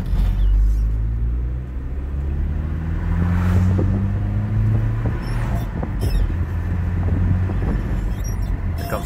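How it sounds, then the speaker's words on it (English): A loaded dump truck drives past on a road near a steam plant, its engine rumbling loud and close with low droning tones that rise and fall as it passes, heard alone without talk. "Here comes a dump truck, most likely coming out of the steam plant"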